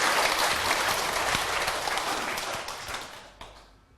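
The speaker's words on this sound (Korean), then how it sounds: "박수 한번 주세요" An audience breaks into applause at a lecture, full and even clapping from many people that holds steady, then tapers and fades out over the last half second.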